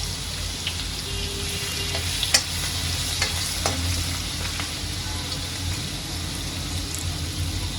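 Cumin seeds and coarsely crushed garlic frying in hot oil in a pan, a continuous close sizzle with light stirring scrapes and a couple of sharp clicks of a spoon against the metal.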